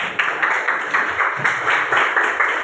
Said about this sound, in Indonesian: Ya, kita kasih tepuk tangan dulu untuk Bapak.